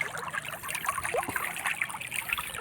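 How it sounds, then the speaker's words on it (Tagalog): Strong stream of water gushing from the outlet of a 3 HP submersible pump feeding a rice field, a steady broadband rush with trickling splashes, close and continuous. "Tingnan nyo ang agos yan, napakalakas yan, oh."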